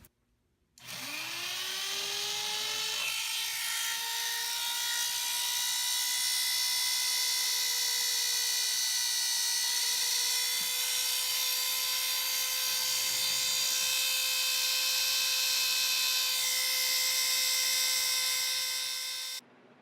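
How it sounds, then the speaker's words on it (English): A polishing machine spins up with a rising whine and holds a steady, loud, tonal hum while a watch case and bracelet are polished, then cuts off at the end. "we just show you a little bit of polishing here"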